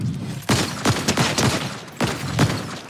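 Bursts of gunfire from the video game Fortnite: several sharp shots in short clusters, fairly close and moderately loud, over a low game background with no talk.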